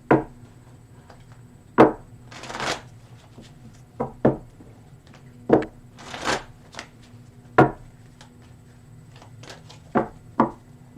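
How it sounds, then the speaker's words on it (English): Tarot cards are shuffled by hand in a series of sharp, separate clacks and brief riffles, spaced irregularly over a quiet background. "Well, let's shuffle these cards."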